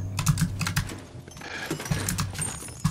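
Rapid clicking keystrokes on a computer keyboard during Fortnite play, close up, in irregular bursts with brief gaps.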